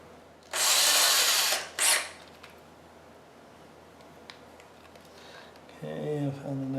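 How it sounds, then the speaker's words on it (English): A power drill bores a hole with a drill bit during a DIY upgrade of a DJI Phantom drone, two loud whirring bursts close by, then quieter handling noises and a brief spoken voice near the end. "since I'm not getting anywhere with that drill bit, I'm going to go to the next size smaller"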